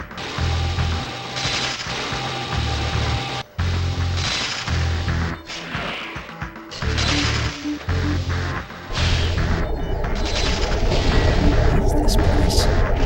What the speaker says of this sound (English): quit shooting the lasers.